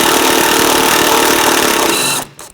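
A power tool spins a 15mm socket on the strut cap bolts of a 2007-2017 Jeep Patriot 2.4L, a loud, close, buzzing whir that holds for about two seconds and then stops abruptly.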